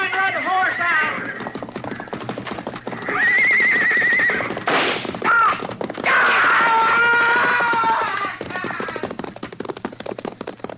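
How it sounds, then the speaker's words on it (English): A horse whinnies and neighs repeatedly over clattering hooves as a rider tries to flee during a hayrick fire in a 1950s radio western drama, with shouting and other voices mixed in throughout. "Look, he's trying to ride the horse out."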